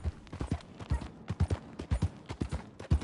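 Horse hooves clip-clop in Red Dead Redemption 2 as a borrowed horse travels, a steady close rhythmic trotting of distinct hoof strikes with no talking.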